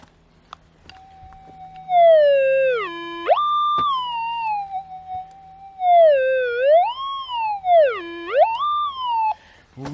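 Minelab GPX 4500 metal detector with a Coiltek Elite 14 coil sounding a target signal while hunting for gold nuggets: a warbling, rising and falling electronic tone that swells louder, over a faint steady hum.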